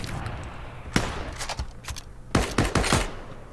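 Gunfire in the Ring of Elysium video game: sharp shots crack close by, first a single one, then scattered shots, and then a quick burst of several rounds in a row.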